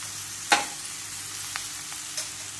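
Fenugreek leaves fry with gram flour and spices in a pan, giving a faint, steady sizzle. A few soft clinks from a stirring spoon punctuate it.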